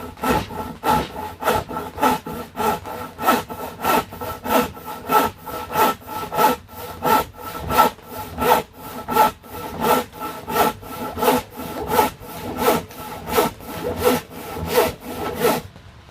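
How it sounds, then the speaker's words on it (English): Fine-tooth hand saw ripping along the grain of wood, a steady run of close, loud rasping strokes in an even back-and-forth rhythm, heard alone with no talk. "It is ripping. It's a very fine tooth saw or fine carve"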